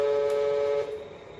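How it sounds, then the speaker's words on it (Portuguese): A Welly Volvo truck miniature with remote control and an engine sound module gives a short electronic horn toot, a steady buzzy tone that cuts off after under a second and leaves a faint hum. "no controlão aqui ó, acelerar aqui, dá uma buzinada lá"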